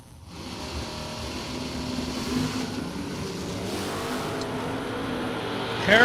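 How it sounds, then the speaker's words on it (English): A drag racing car accelerating down the strip, the engine roar building steadily from quiet and staying loud and sustained at a distance, with a brighter whine rising near the end. "Harrelson hit the gas, and it's almost like his foot came off the throttle"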